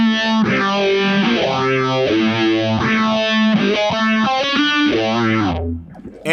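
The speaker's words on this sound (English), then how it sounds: "if you go to monophonic setting, this turns into kind of like a Phase 90 style sound" An electric guitar runs through an MXR Poly Blue Octave pedal in its monophonic setting, giving a sweeping Phase 90 style phaser swirl over sustained, slightly distorted notes that rise and fall rhythmically before stopping abruptly.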